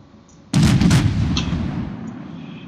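A warship's artillery salvo in the naval game World of Warships: one sudden loud boom after a quiet lead-in, followed by a couple of quick crackling reports and a long rumbling decay.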